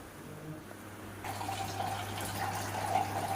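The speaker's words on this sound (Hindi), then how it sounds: "तो पानी भर लूँ" Tap water runs steadily into a container in a home kitchen during cooking, a continuous splashing fill that grows slightly louder partway through, with no talking.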